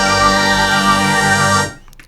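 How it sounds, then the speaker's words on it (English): A Yamaha DX7 FM synth plays its vintage strings 3 patch as a dense, sustained chord with gentle swelling movement. It holds for about one and a half seconds, then cuts off with a short fading release, with no voices. "Vintage strings 3 sounds like this"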